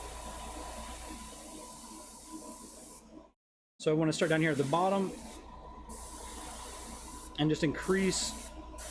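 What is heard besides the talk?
airbrush spraying paint on miniature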